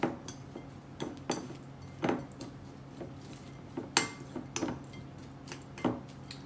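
A utensil clinks and taps against a bowl while keto recipe ingredients, including cilantro, are mixed, giving faint, irregular scraping and clicking strokes in a quiet kitchen.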